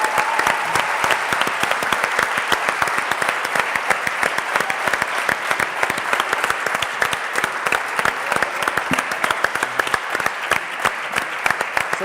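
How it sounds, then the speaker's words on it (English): Steady, dense applause from an audience at an award gala, honouring the third place team, sustained evenly throughout without a break. "So a big round of applause"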